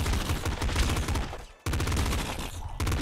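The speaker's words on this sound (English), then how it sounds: "Okay, we got the pop gun. Pop gun. And it pop pops." Rapid bursts of pop gun fire in the roguelike game Nuclear Throne, dense popping shots in quick succession, broken by a brief silent gap before the firing resumes.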